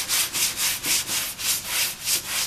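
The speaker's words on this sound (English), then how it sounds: "notice that I'm cross-sanding" Sandpaper cross-sands a car body panel back and forth in quick, even strokes, a rhythmic scratchy swish with no voices.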